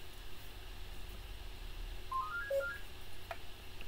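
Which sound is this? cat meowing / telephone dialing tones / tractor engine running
telephone dialing tones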